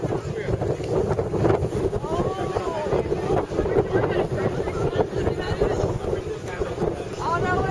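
Strong wind buffets the microphone at a beach, a continuous loud rushing roar with gusty swells, while people talk and laugh over it.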